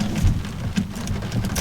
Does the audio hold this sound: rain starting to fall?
yes